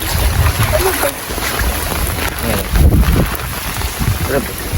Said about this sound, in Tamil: இங்கே நல்ல காற்று தான் அடிக்குது